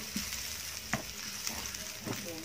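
Garlic and chili stir-fry in a pan for a Thai dish of stink beans with seasoned minced pork. The sizzle is soft and steady, with a few quiet scraping strokes of stirring.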